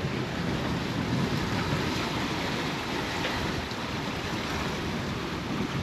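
Sailing a boat in about 15 knots of wind, steady roaring wind and rushing waves fill the scene, a constant broadband wash with no voices.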